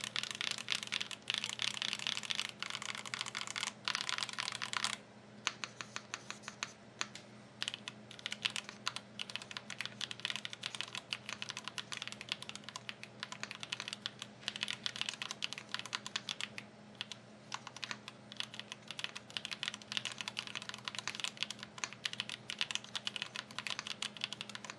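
Zoom65 V2 custom mechanical keyboard being typed on: steady, dense clacking keystrokes run for the whole stretch, close and clear, with no voices.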